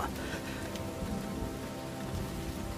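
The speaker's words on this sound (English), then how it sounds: "it's raining really badly" Heavy rain pours down steadily in an episode of the Demon Slayer anime. The dense, even hiss of the downpour fills the whole stretch without a break, and no one speaks over it.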